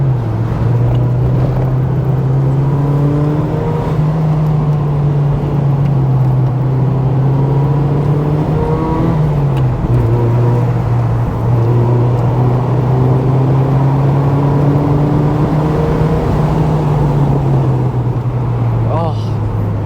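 A Mazda MX-5 Miata drives along at steady speed, its engine drone holding a low, even pitch with a brief dip as it shifts gear, under intermittent conversation from people inside the car.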